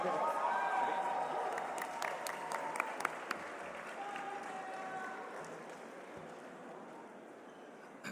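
Sustained applause from an audience at a game developer awards ceremony, a dense wash of clapping that stays steady and fairly loud before gradually thinning out toward the end.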